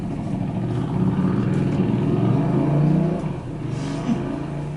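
A motorcycle engine revs with a steady mid-pitched drone that swells, peaks around the third second, then eases back to a lower idle, sounding fairly close and loud with no voices.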